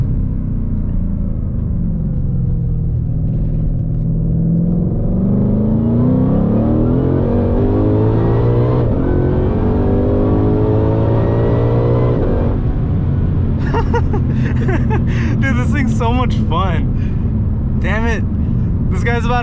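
A Ford Shelby GT500 engine climbs steadily in pitch under hard acceleration from inside the cabin, a loud rising drone that cuts to a lower tone at a shift, with someone talking excitedly throughout.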